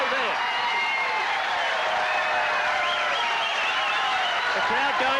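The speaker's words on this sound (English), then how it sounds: "The crowd going berserk here at Logan City Lanes, and what a big crowd there is here for this final match" A large crowd at Logan City Lanes roaring and applauding during a ten-pin bowling final, a dense continuous wash of cheering and clapping with a commentator's voice running over it the whole time.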